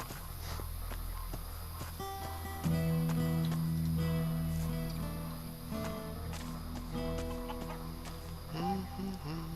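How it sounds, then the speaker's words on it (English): A chicken in the game Risen clucks in short, repeated, pitched calls over a steady outdoor background with footsteps, with a longer sustained cluck in the middle, fairly close and clear. "I'm gonna talk to the chicken."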